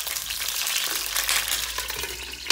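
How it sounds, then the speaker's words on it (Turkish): Steady, loud sizzling of eggplant frying in hot oil in a pan, a dense crackling hiss throughout with no voices. "Hemen kalan patlıcanları da atıyoruz."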